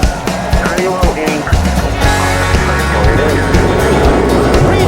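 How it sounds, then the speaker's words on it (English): Race car engines fire up and drone at the Watkins Glen road course for the Cheez-It 355, a loud, steady multi-engine roar with rising pitch lines, while an announcer talks over it. "Driver, start your engine!"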